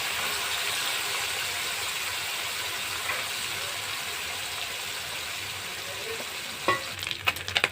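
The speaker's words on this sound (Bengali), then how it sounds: "মাছটাকে ভালো করে কড়া করে ভেজে নেব।" Small kachki fish fry in oil in a pan, a steady close hiss of sizzling throughout, with a few sharp clatters near the end.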